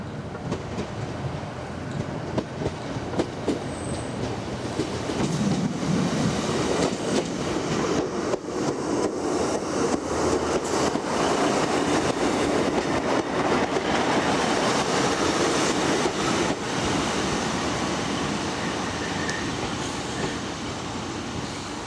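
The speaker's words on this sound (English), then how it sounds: "Surrounded by hills, the popular resort of Buxton is served by class 150 diesel sprinters." A class 150 diesel Sprinter train runs at Buxton, a hill-ringed resort in the Peak District. Its steady rumble and rail clatter continue throughout, near and fairly loud, swelling slightly midway, with no voices.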